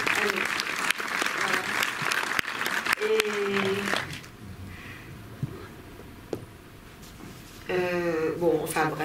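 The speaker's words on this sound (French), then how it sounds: "On peut applaudir du coup." An audience at a screening and meeting in a cinema in Montreuil claps, with sustained applause in the first seconds and voices speaking over and after it.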